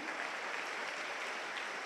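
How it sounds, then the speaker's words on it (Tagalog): Church audience applauding during a Tagalog preaching service, a continuous, even burst of clapping heard alone. "Lakasan nyo yung palakpak nyo"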